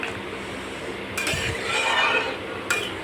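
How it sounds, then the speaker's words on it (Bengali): Mixed vegetables for Bengali shukto are stirred in a cooking pot, with a few metallic clinks and scrapes of a utensil against the pot over a low kitchen background, without speech. "এই যে নেড়ে দিলাম আমি নেড়ে আমি আবার চাপা দিয়ে দেবো"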